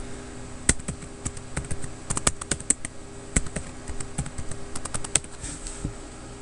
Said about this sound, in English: Type in your root password.